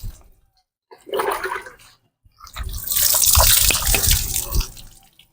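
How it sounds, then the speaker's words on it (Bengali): Water splashes and pours over a man's shampooed head as he is washed, coming in two bursts with a short gap, the second longer and heavier, close and fairly loud. "মাথায় জল দাও"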